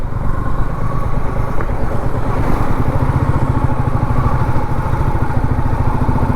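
A motorcycle rides along a green countryside road, its engine humming steadily and close with a continuous even drone and faint clatter, no voices.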